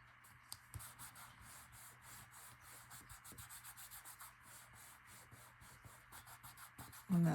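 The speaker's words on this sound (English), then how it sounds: "I'm trying to rub it so that that tacky glue ends up right on the edges, really holding them down" Paper edges on artist trading card bases are rubbed firmly to press tacky glue down, making a steady series of close, rhythmic rubbing strokes that ends with a brief louder bump.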